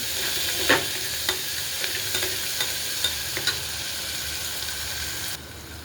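Cluster-bean vegetable being stirred in hot oil in a pan: a steady close sizzle with scattered scraping spoon strokes, and no talking.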